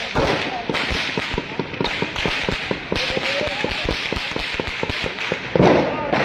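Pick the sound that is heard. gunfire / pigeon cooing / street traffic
gunfire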